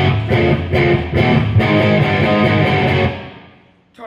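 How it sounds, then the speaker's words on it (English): An electric guitar through a Marshall JCM 800 amp on a clean distortion setting plays a run of chopped, rhythmic chords, loud and close, then rings out and fades over the last second. "Kind of a clean distortion."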